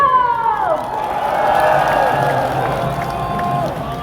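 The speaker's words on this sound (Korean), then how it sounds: "고생해주신 우리 조합원들께 함성 질러!" A large crowd at a Labor Day union rally on Sejong-daero cheers and shouts together, a sustained roar of voices with a rising whoop at the start, loud and continuous throughout.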